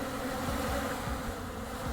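Bees buzzing steadily around a hive in the survival game Vintage Story, a continuous dense insect drone heard close up with no other sounds on top.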